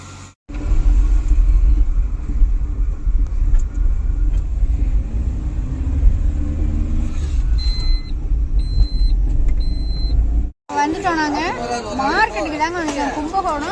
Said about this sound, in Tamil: இப்போ எதில் போகிறோம்னா டாட்டாஸில் தான் போக போகிறோம்